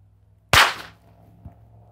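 A single loud, sharp gunshot from a Sig Sauer P365 pistol firing Winchester USA forged steel-case ammunition, with a short decaying tail and a faint click about a second later.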